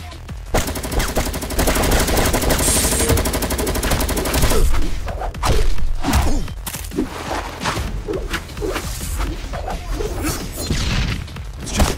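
Rapid gunfire from the video game King Cross: Assault, sustained automatic bursts at first, then scattered shots and impacts, loud and dense throughout.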